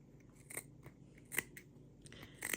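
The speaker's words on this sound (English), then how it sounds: "I want to trim my threads" Scissors trimming loose threads on a sewn fabric tube for a scrunchie keychain, giving three or four quiet, crisp snips spaced irregularly and heard close with no talk.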